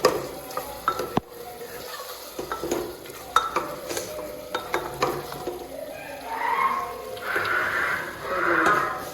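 Potatoes sizzle and fry in a pan while being stirred, with scraping and clattering utensil strokes over a steady crackle that swells louder toward the end.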